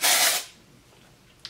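One short, loud, close-up hiss of dry shampoo sprayed into hair from an aerosol can. It stops after a moment and leaves a quiet room, then a tiny tap near the end.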